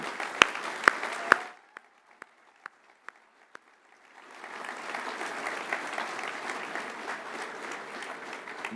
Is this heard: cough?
no